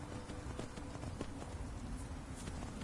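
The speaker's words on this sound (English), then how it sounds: "Horsey." Horse hooves clip-clop in the Skyrim video game, a steady run of close, rhythmic hoof strikes over constant game background noise.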